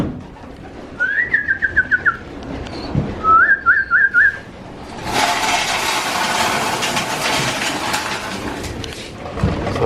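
Pigeons in a breeding loft with breeders and cocks give two short bursts of squeaky, chirping calls, then a loud, steady rushing noise fills the rest of the stretch.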